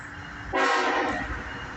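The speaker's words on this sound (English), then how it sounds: "We got a train coming." A northbound CSX freight train sounds its horn nearby, a loud sustained chord that cuts in abruptly over the rumble of rolling cars and holds steady to the end.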